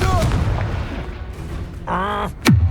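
Fiery Confringo spell blast cast in the Hogwarts Legacy video game, a short sharp burst with a falling whoosh near the end, following brief chiming spell effects amid game combat sounds.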